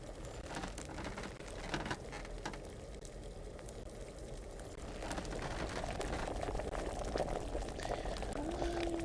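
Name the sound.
cauldron boiling during brewing in video game Kingdom Come: Deliverance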